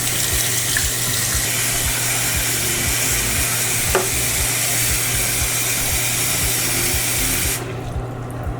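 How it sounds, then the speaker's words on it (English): Warm to hot tap water runs steadily into a bowl, a constant close rushing and splashing that thins out near the end. "fill up the container or bowl that you're using with warm to hot water"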